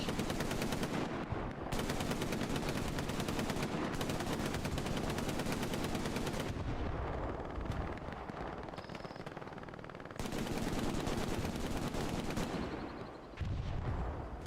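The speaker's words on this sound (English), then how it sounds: "on the MG, laying down suppressing fire, keeping them back" Machine gun laying down long, continuous bursts of suppressing fire in the Hell Let Loose World War II shooter game, loud and close, with brief pauses between sustained volleys and distant gunfire around.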